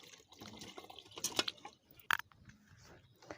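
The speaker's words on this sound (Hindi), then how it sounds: "इसके ऊपर से इसको धो लेते हैं मुंह को" Water splashes and drips as someone rinses the mouth of a container while setting up a homemade biogas rig. The sound is faint and close, with a few sharp wet splashes in the middle.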